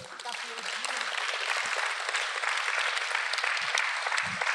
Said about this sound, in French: je vais t'applaudir